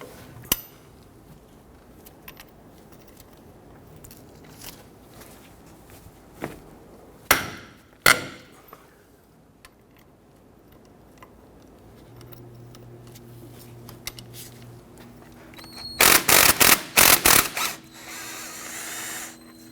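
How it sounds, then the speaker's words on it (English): Scattered metallic clicks and knocks come from an 18mm wrench working loose the caliper bracket bolts on a 2006-2010 Hummer H3 front brake, followed by a short rattling burst near the end, with the sound close by and otherwise quiet. "We use our 18mm to go ahead and loosen these bolts."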